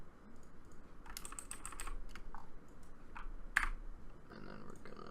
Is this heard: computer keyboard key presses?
yes